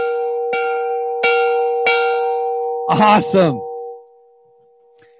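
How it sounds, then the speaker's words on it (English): A bell is rung at an outdoor evening community event, three ringing, clanging strokes at regular intervals, each with a long ringing tail, followed by a brief spoken exclamation as the tone fades out. "And let's ring the bell."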